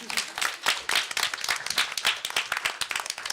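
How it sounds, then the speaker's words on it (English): A small audience at a talk on water and peacebuilding in the Middle East claps for Eric, a close, fairly loud patter of distinct individual claps in an uneven rhythm over about three seconds. "we should clap for Eric right now"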